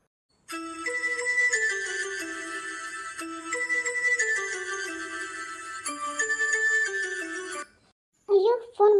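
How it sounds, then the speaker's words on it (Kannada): A mobile phone rings with a loud, melodic ringtone for an incoming call, a repeating tune that plays steadily for about seven seconds in an indoor scene before stopping, followed by brief voices. "ಅಯ್ಯೋ ಫೋನ್ ಬಂತಲ್ಲ, ಎಲ್ಲಿಟ್ಟೆ?"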